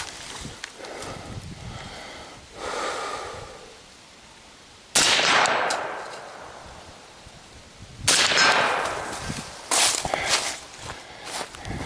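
Suppressed 11.5-inch AR15 rifle firing outdoors on a hike, a few sharp muffled cracks spaced seconds apart, each followed by a brief rustling decay, with quieter shuffling movement between shots.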